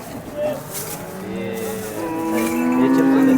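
An HF dairy cow at the Sangola cattle market moos, a drawn-out call that rises and grows louder toward the end. People talk nearby over the market bustle.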